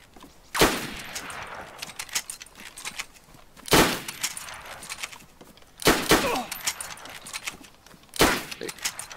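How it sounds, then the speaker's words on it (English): Four loud, sharp gunshots in DayZ at a nighttime encounter, spaced roughly two seconds apart, each a hard crack trailing into a short echo, with faint rustling between them. "You getting shot at, Chris?"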